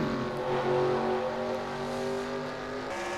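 Race cars run on the Iowa oval in a sim racing video game, the Graham Tire 150, with engines droning in a loud, sustained whine that shifts slightly in pitch as cars pass.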